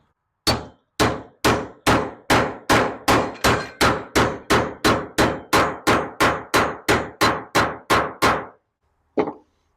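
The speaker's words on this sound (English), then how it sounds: "you want whatever surface the bearing is seating to is the one you want to hammer on" Hammering a bearing into seat with a length of old gas pipe during a Honda mini engine rebuild: about eighteen sharp, evenly spaced metallic strikes in quick succession, close and loud, then a pause and one last lighter tap.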